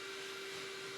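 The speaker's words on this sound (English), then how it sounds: "they can't vacuum for very long" Vacuum cleaner running nearby as a steady, unbroken broadband whine with a constant tonal hum, loud and continuous throughout with no talk over it.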